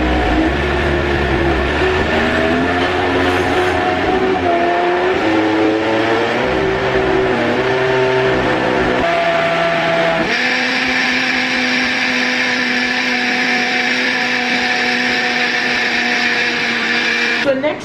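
A blender whirs loudly and continuously at high speed, its motor pitch shifting before settling into a higher, steady roar in the second half; the blender moves on the counter while running.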